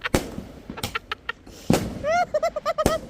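Firecrackers going off at a home Diwali celebration in London: sharp, loud cracks and bangs in an irregular burst, with a whistling or squealing tone among the later pops.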